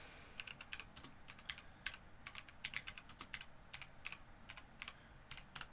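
Quiet, quick clicking of computer keys struck in irregular bursts, typed one-handed, close to the microphone with no voices.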